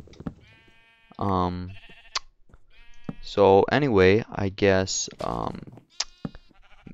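Sheep in the Minecraft video game bleat several times in short clustered bursts, with someone talking over them and occasional clicks.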